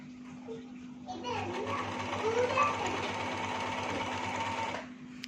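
A Janome sewing machine stitching forward gives a steady close mechanical whir with a fine rapid needle rhythm that starts, runs continuously for several seconds and then stops, with voices and children's chatter in the background.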